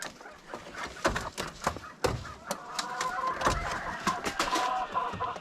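Chickens in a backyard coop cluck and squawk in quick, uneven bursts, a steady flock chatter with sharper calls standing out, fairly close and moderately loud.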